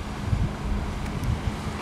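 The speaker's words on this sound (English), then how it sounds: "Here goes a boat." A low, steady engine rumble of a boat passing on a lake mixed with wind buffeting the microphone, continuous throughout with no voices.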